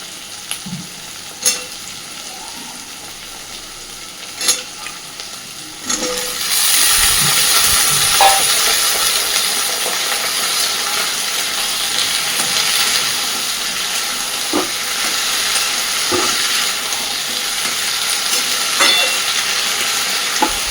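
Okra and potato hit hot oil with onion and tomato, a few clinks giving way to a loud, steady hissing sizzle that keeps on under occasional stirring scrapes.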